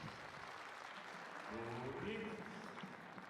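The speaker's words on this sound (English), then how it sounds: "Little bit of Russian applause in the background there" Crowd applause at the 2021 European Weightlifting Championships, women's 87 kg, rises faintly in the background under a speaking voice.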